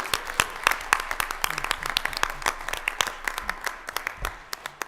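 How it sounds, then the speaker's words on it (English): A small board-meeting audience claps for a district champion girls' team, with fairly sparse, distinct hand claps spread over about five seconds at moderate loudness. "if we could give our girls another huge round of applause"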